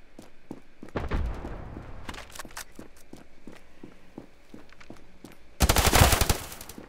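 Gunfire in the mobile shooter Standoff 2: a steady run of sharp, evenly spaced game gunshots mixed with footsteps, then a loud, dense burst of shots near the end, with no talk.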